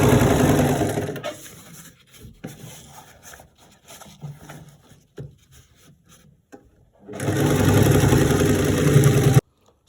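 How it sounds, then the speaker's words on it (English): A sewing machine runs a long stitch down an asoebi bubu gown, loud steady whirring at the start, then a stretch of quieter intermittent stitching and handling, then another sustained run near the end. "I'm going to go ahead and run a stitch all the way down to the base of my gown"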